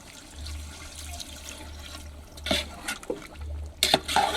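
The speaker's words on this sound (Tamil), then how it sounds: "அளவு தண்ணியை ஊற்றிக்கலாம்" Water splashes into a pot of cooking biryani meat in a few short pours over a quiet, low background hum.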